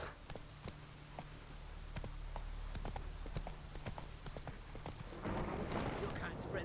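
Horse hooves clip-clop steadily in a video game, an even walking rhythm of soft knocks over a low droning background that grows busier toward the end.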